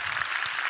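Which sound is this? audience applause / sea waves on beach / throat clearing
audience applause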